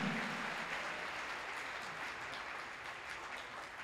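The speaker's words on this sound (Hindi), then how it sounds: "जोरदार तालियां बजाएं यीशु के नाम को जलाल देने के लिए" A congregation at a Friday church service in Dubai applauds with continuous, fairly soft clapping that holds steady, somewhat distant, with no voices over it.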